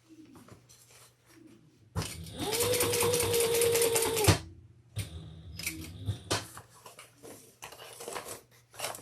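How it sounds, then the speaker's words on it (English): Sewing machine top stitching leather bag panels, one loud continuous run of about two seconds, followed by quieter clicks and handling noises of the work at close range. "I'm top stitching on the bottom main panels"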